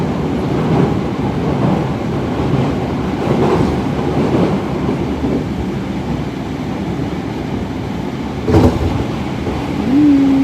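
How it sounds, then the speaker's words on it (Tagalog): Train rolling along a railway through quiet countryside in Japan, a continuous rumbling clatter with a brief sharp squeal near the end and a rising tone at the close, no talking. "may another train"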